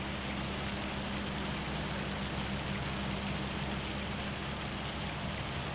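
Hail pelts the ground steadily in Farming Simulator 25 during a storm in Huron County, Michigan, a dense continuous hiss of impacts over a low rumble, with no voices.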